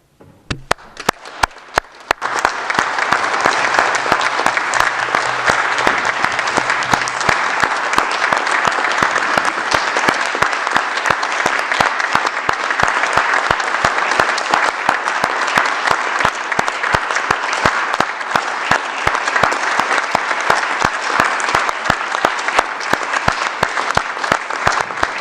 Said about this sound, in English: Please join me in clapping, shouting, and stamping your feet for every health and care worker